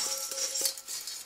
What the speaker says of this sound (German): Und da kommen jetzt einmal die Spaghetti rein.